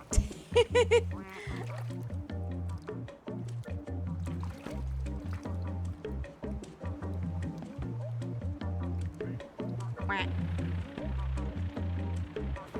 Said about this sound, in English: Y'all should be able to hear your quacks now.